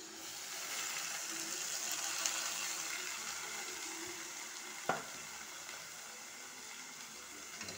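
Tomato and onion curry stirred in a pan: a steady, close frying sizzle with faint scraping of a spoon and one sharp clack against the pan midway.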